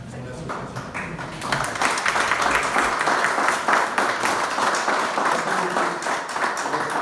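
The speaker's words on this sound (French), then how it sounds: "De vous lever et d'applaudir" Audience applause at a municipal ceremony in France presenting a cardiac defibrillator, a steady crowd clapping that swells after the first second and continues throughout.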